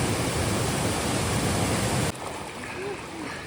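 Water rushes over three waterfalls into a crystal-clear stream at Wari Chora in Meghalaya. A loud, dense roar fills the first two seconds, then drops abruptly to a softer, steady flow.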